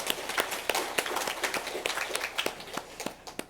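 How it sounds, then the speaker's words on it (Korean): Church congregation clapping at a Sunday service after the choir's hymn: brisk, uneven applause with sharp individual claps, moderately close, continuing steadily for several seconds. "우리 하나님께 감사와 영광의 박수 올려드리겠습니다"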